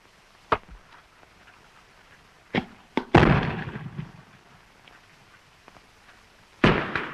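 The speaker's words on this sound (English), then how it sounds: "Bombardment." Artillery shells burst in a WWI battlefield bombardment: several sharp blasts spaced a few seconds apart, one followed by a long rumbling roll, with quiet gaps between them and no voices.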